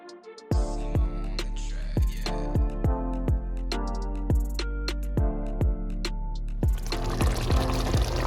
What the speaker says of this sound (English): I might add some more water just to help the potatoes cook a little faster